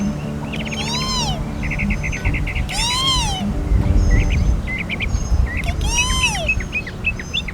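A loud, repeated great kiskadee call rings out three times at regular intervals, bright and nearby, over a low rumbling background hum.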